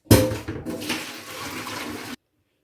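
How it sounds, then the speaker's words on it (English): Water from boiled chicken being poured off and strained through a filter, a short splashing gush that starts abruptly, runs for about two seconds, then stops dead. "I'm going to filter the water."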